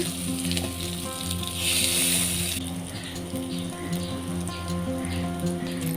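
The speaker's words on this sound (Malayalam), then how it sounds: "എണ്ണയിലിട്ട് വഴറ്റി കൊടുക്കുകയാണ്" Steady sizzling of eggplant sautéing in hot oil, a continuous hiss with faint rattles, no talking.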